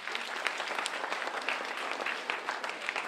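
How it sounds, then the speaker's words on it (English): Students at a K-8 academy assembly clap for themselves, a steady, fairly soft wash of many hands applauding together at mid distance, with no voices over it. "Give yourselves a hand clap"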